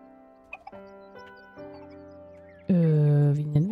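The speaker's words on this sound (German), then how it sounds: "Oh, ist das niedlich. Ein schwarzes Hühnchen." Black chicken clucking in the Big Farm Story farming game, a few sparse cartoonish clucks and chimes followed by a louder, sustained burst of game sound toward the end.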